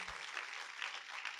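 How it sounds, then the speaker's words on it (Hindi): An audience at a motivational speech claps in a brief, soft, even patter of applause, heard at a distance. "तो ताली बजाओ"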